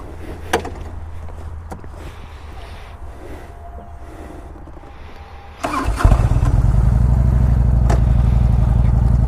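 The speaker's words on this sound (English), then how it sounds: "this bike has really revealed to me why people love the Evo motor" A Harley-Davidson Evo motorcycle engine starts partway through a test drive after a few clicks and knocks, then settles into a loud, close, steady lumpy idle that fills the rest of the clip.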